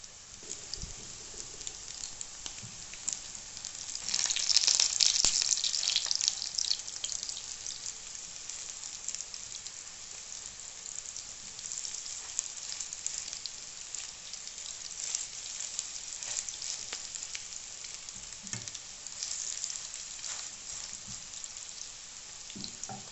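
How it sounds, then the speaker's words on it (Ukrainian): Sardine and rice fish cutlets sizzling and crackling steadily in sunflower oil in a pan, swelling briefly louder early on, then settling into a soft, even fry. "Смажимо наші котлети з обох сторін до золотистої хрумкої скоринки."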